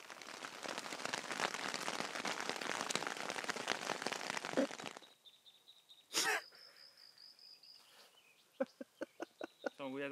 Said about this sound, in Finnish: Sade yllätti.